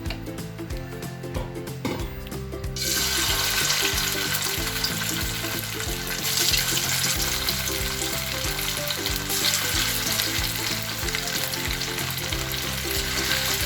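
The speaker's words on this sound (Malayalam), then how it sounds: "നമുക്ക് ഇനി ചിക്കൻ ഫ്രൈ ചെയ്തെടുക്കാം." Chicken 65 pieces dropped into hot oil in a pan on a gas stove, a loud dense sizzle that bursts in after a few seconds and keeps crackling steadily, close up with no talking.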